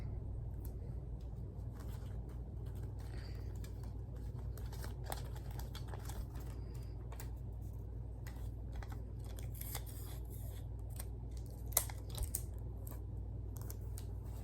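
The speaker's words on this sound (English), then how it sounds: "tape the other side" Tape being pulled and pressed onto a paper puppet dragon, with faint scattered crinkles and small clicks over a steady low room hum, close and quiet.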